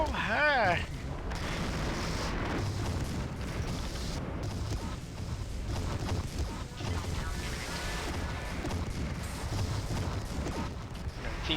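Laser weapons fire in MechWarrior 3 during an online free-for-all match, a dense, continuous barrage of zapping and crashing blasts layered with battle noise, loud and sustained, with voices talking over it.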